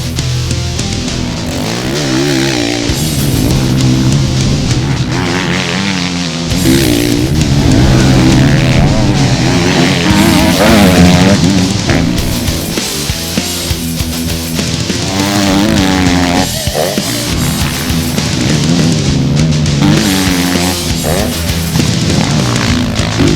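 A 2016 Kawasaki KX-F 450 dirt bike engine roars continuously, revving up and down as it rides through sand, loud and close with shifting throttle throughout.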